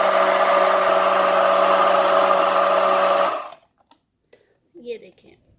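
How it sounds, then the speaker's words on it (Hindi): A kitchen blender whirs steadily and loudly while blending a banana and fig milkshake, then cuts off abruptly, leaving near silence with a few faint clicks. "तो आपने बहुत अच्छे से इसको ब्लेंड करना है।"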